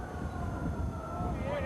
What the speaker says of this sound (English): There's our first siren.